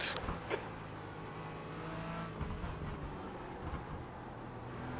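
Porsche GT4 race cars in the iRacing sim at Montreal, a steady engine drone from a close pack of cars with a couple of louder rising revs, continuous with no talking.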